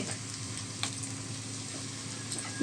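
Onions fry in a pan with a constant close sizzle and soft stirring scrapes, plus an occasional light tick from the utensil, and nobody speaks.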